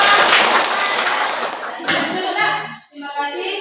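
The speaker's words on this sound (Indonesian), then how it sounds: "Dan tepuk tangan untuk kelompok." A classroom of students applauds a student group during a maths lesson on cylinder volume: a dense burst of clapping for a couple of seconds that fades into quieter room sounds.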